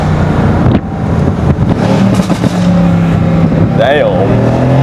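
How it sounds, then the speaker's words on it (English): A car engine revs hard and changes pitch sharply during a loud gear upshift, with a rising whine toward the end. The engine sits close and loud under an excited voice. "That is a loud, that's pretty loud upshift noise."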